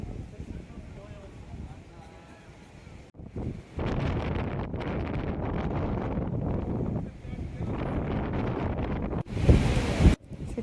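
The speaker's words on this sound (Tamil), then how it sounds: "காற்று செம்ம காற்று" Strong wind buffets the microphone on the shore at Kanyakumari, with sea waves surging and breaking close by. The roar is loud and continuous, swelling in gusts and cutting out briefly.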